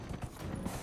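Horse hooves pounding during a race in the video game Dragon Age: Inquisition, a quick run of soft clip-clop beats at moderate volume with no talking.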